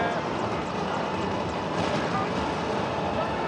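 A helicopter in the open-world action game Prototype gives off a steady, loud rotor and engine roar with a dense, unbroken noisy texture that holds constant throughout.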